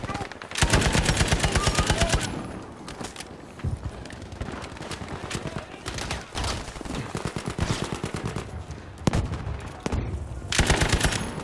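Rapid gunfire in a video game shooter, bursts of sharp repeated shots in quick strings with short gaps between volleys, close and loud throughout.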